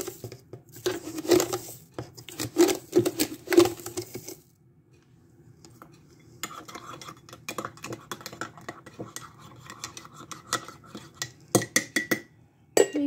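A spoon adds sugar to a cup of tea and stirs it, giving a quick run of light clinks and taps against the cup, followed by quieter scattered scraping and small knocks in a calm room.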